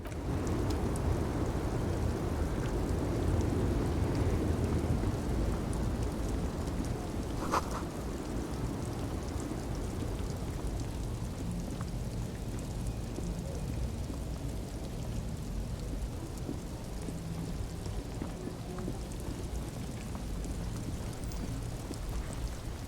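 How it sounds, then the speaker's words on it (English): Steady rain in the video game Disco Elysium patters continuously with a soft background hiss; a brief crack stands out midway, and the level eases slightly later on. "Stuck in the rain in a traffic jam"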